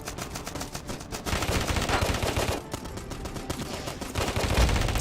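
Assault rifle firing in the Afterpulse mobile shooter game, with loud rapid bursts of automatic gunfire in dense strings, a short break near the middle, then continued fire, no talk heard.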